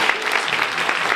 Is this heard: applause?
yes